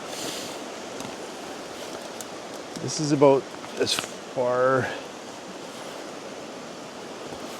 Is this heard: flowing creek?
yes